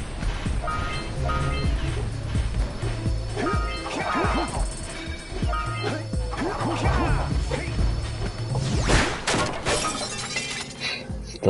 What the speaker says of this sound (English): That's still such a good fucking glass breaking sound effect